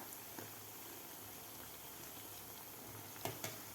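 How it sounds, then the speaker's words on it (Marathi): Balushahi pastries frying slowly in oil over a low flame, a faint steady bubbling hiss throughout with a couple of soft clicks near the end. "आपल्याला तीन ते चार मिनिट लागतात हे बालुशाही तळायला"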